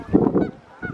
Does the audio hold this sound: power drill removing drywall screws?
no